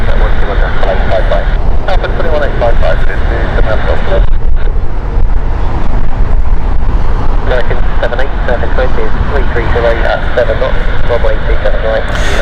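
United Boeing 767 taxiing at Heathrow Airport, a loud steady jet engine roar and whine filling the air, with a voice speaking over the continuous drone.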